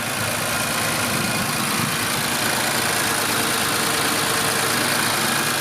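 Infiniti Q50 3.0T idling with an aftermarket AEM intake, giving a steady, loud, close engine drone with a hiss of turbo and intake air throughout and no voices.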